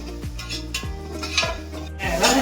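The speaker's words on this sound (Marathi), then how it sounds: "कांदा मेल्ट करून घेतोय" Chopped onion being sautéed in a pan for a Diwali chicken party, with repeated spatula scrapes and metallic clinks against the pan over a faint sizzle and a steady tonal hum.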